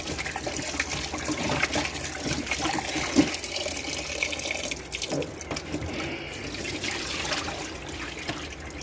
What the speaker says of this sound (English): So I give another wash.